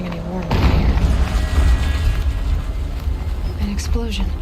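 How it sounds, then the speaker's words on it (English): Deep booming explosion in the video game Horizon Zero Dawn, a sudden heavy blast that swells into a long rumbling roar, with brief voice-like sounds over the tail. "An explosion."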